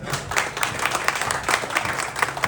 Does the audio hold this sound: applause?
yes